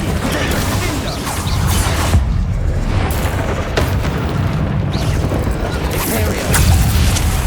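A fire spell cast during combat in the video game Hogwarts Legacy, a loud, continuous burst of roaring, rumbling blasts and crashing impacts layered over game music, with no pauses throughout.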